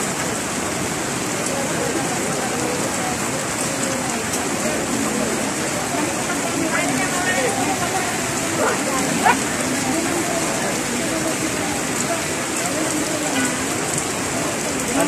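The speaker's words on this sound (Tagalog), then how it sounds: "Grabe lakas ng ulan, oh." Heavy rain pours steadily outdoors at a mobile consular service event, a dense, even hiss of downpour throughout with no letup, and people talk faintly beneath it.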